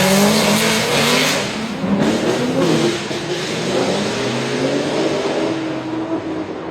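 Drift car engine revving hard at a drift event, loud rising and falling high-pitched wails that dominate the scene, close and sustained with no talk.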